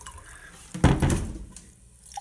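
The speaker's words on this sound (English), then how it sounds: "So we'll start our process of giving them a rinse" Mung bean sprouts are rinsed and drained, giving a short burst of splashing, gurgling water that lasts about a second and then trails off into faint drips, close by, with no voices.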